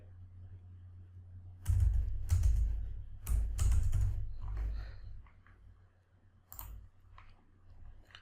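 Computer keyboard typing, a run of quick key clicks in bursts entering details into a form in CAD drawing software, close and fairly quiet with pauses over a low steady hum.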